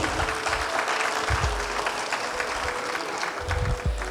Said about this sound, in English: yes please, you can clap